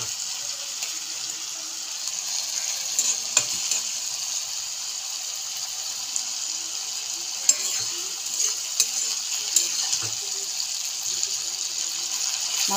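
Spice paste for a small-fish curry sizzling steadily in a pan, with occasional scrapes and clacks of a spoon stirring it, close and moderately loud with no talking.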